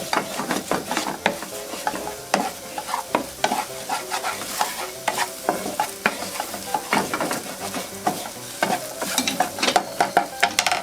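Eggs crumbled and stirred in a hot pan for a keto dish, with steady scraping and stirring taps over a constant frying sizzle, close and continuous, no voices.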